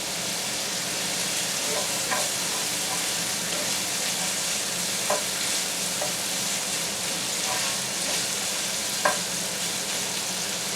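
Pancetta fries in its rendered fat in a pan, a dense, steady sizzle running throughout with occasional soft pops and spatula clicks, close and fairly loud.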